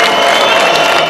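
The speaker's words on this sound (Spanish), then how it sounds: "Algunos asistentes con aplausos intentaban tapar los abucheos de otros espectadores" Opera-house audience greeting the Prince and Princess of Asturias with a dense, loud wash of applause mixed with booing, continuous and crowded throughout the short moment.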